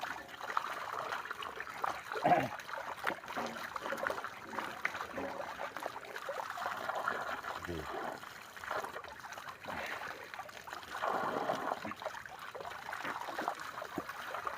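Spring water splashes and trickles steadily while people bathe outdoors, a continuous wet rushing with occasional louder splashes and faint voices in the background.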